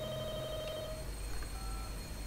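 A telephone rings in The Walking Dead: Michonne video game, a steady electronic tone for about a second over a low background hum, then fading under quiet ambience.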